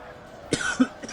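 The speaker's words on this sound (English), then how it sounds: "Wouldn't be a video without a cough." A man coughs twice in quick succession, close to the microphone, with a faint throat-clearing edge, over a quiet background.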